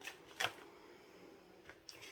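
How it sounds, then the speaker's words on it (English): A deck of tarot cards shuffled by hand, a quiet brief riffle with a couple of soft flicks close by. "Let me shuffle again because I didn't see that in the reading."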